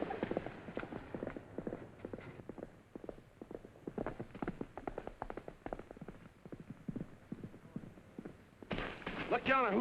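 A horse's hooves clip-clop steadily in an old 1944 Western film soundtrack, a quick, even rhythm at moderate distance before a voice speaks near the end.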